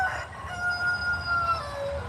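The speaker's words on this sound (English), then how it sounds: "Oh, we finally got our cock-a-doodle-doo." A rooster near a backyard chicken coop crows a single drawn-out cock-a-doodle-doo, thin and somewhat distant over a low background hum, with no speech.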